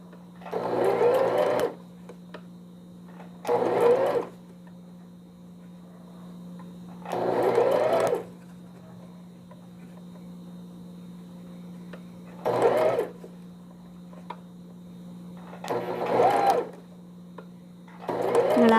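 A sewing machine stitches a newborn baby's vest in five separate loud bursts of rapid running, with steady hum between runs and no talk.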